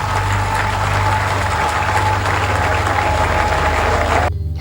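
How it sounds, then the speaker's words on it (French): A large audience at a Cameroonian ceremony applauds loudly and continuously, a dense wash of clapping over a low engine-like hum that cuts off abruptly at the end. "je vous prie d'applaudir très très fort"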